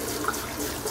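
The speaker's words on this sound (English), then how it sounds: "So run it in cold water." Cold tap water runs steadily over cooked spaghetti in a kitchen sink, a continuous close splashing rush lasting about a second with no speech.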